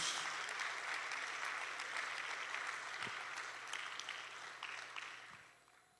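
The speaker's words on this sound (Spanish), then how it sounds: "Dale fuerte el aplauso al Señor, hermanos." Congregation applauding during a church service, a dense, sustained wash of many hands clapping at moderate distance, slowly fading out toward the end.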